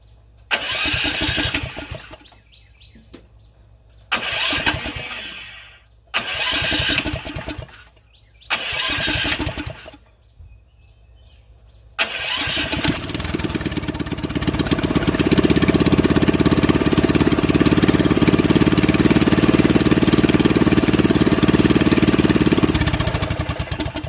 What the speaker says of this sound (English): I'm going to go back and try to start this thing again.